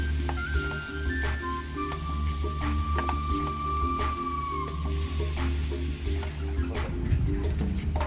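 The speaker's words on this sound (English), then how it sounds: "we're going to sear the meat for a couple minutes on each side" Marinated steak sears on a grill heated to about 450 degrees, giving a continuous close sizzle. The sizzle runs under a steady mechanical hum with occasional faint tonal whines and no talking.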